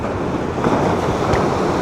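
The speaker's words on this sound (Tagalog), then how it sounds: "Lakas ng alon talaga dito, mga busing, dahil itong dagat na to ay nakaharap na to sa Pacific Ocean." Strong Pacific Ocean surf pounds a Leyte shore during Typhoon Basyang, a loud continuous roar of breaking waves mixed with gusting wind buffeting the microphone.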